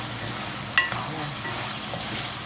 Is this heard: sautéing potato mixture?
yes